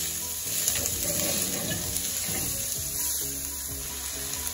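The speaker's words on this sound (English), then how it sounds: "Once the oil heats up, add the chopped ginger, garlic, and green chilies. Stir. Next, add the chopped onions." Chopped onions sizzling in hot oil with ginger, garlic and green chilies for a shrimp and okra stew, a steady, close crackling fry with faint stirring, and no talking.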